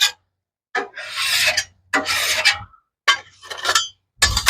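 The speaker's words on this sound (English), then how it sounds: "Do some scraping, get some of this off so we don't have to clean so much of it later." Repeated scraping of a spatula across a cooking pan with melted butter and mushrooms, four loud rasping strokes separated by short pauses, close up with no talking.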